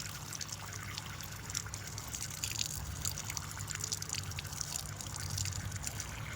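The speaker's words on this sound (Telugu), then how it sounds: "వెనక ముందు అయితే శుభ్రంగా కడుక్కోవాలి" Guava leaves are rinsed under running tap water, a steady close trickle and splash of liquid with faint rustling of wet leaves throughout.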